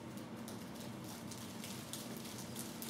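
A single fingertip taps on the palm of the other hand to imitate thin rain falling on soil, producing a soft, dense, continuous patter that is faint and steady throughout, with no talking.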